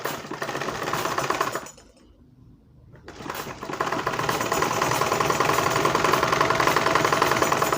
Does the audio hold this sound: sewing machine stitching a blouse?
yes